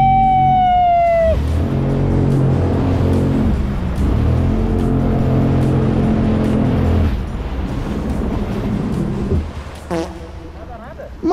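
A jet ski engine revving hard after a rough start, a loud droning motor with a falling whine at first, then a sustained rumble that dips and cuts out near the end, with people talking over it.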